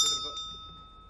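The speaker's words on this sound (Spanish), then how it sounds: "Toqué la campana" A single bell strike rings out in a parliamentary committee session, a sharp metallic ding that hangs and slowly fades, with a brief murmur of voices at the start.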